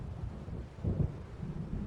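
A low rumble of thunder from an approaching storm in the video game Alan Wake Remastered, heard as a distant rolling swell with a heavier burst midway, under steady wind-like noise.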